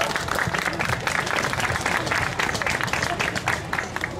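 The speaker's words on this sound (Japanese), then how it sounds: "拍手でお迎えください" Spectators clap to welcome the coach at a home game event in Shibuya, sustained dense applause from a sizable crowd with rapid, overlapping hand claps running steadily throughout.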